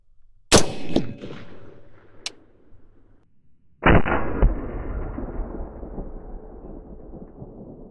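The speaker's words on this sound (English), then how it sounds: "this rifle really kicks when fired through here" Two booming gunshots from a 458 SOCOM rifle firing 350-grain Speer Hot-Cor bullets outdoors, each a heavy blast followed by a long rolling echo that fades over several seconds.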